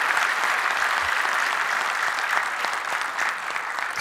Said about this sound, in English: Everyone clap really loudly.